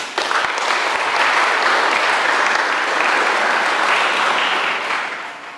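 A church congregation at a wedding-vow renewal and Mass for the elderly breaks into loud, sustained applause that fills the room and fades slightly near the end.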